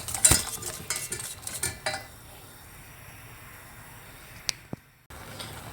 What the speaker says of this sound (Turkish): Şimdi bunları karıştırıyoruz.